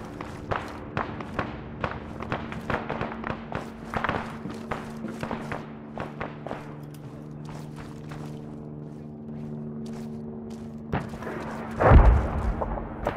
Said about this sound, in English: Sporadic gunshot.